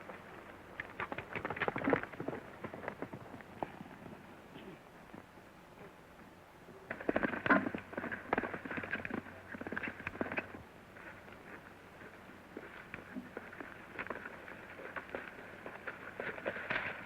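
A horse gallops in a 1933 black-and-white Western, a quiet, rapid patter of hoofbeats that swells into two louder clustered bursts, with faint clatter between them.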